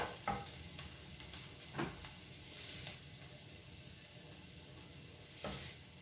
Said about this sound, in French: je vais mélanger mon bouillon de volaille avec de l'eau pour pouvoir arroser les coquillettes